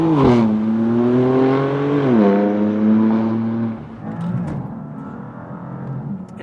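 A BMW F80 M4 with a dual-clutch automatic pulls away and accelerates hard, its engine note climbing steadily in pitch, dropping at a quick gear shift, then climbing again before easing into a lower, rougher drone, loud and close.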